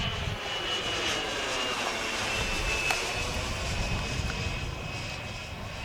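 HSD Jets T-33 model jet with a 120mm electric ducted fan cruises at half throttle, giving a steady, fairly quiet whooshing whine with a faint high tone, heard outdoors from a moderate distance.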